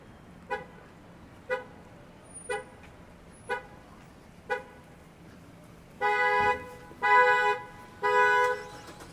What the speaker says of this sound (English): That lady triggered her car alarm.